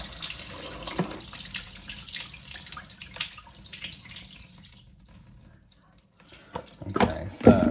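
Water drains out of a household appliance in a steady splashing trickle for several seconds, easing off briefly before a few louder gurgles and knocks near the end.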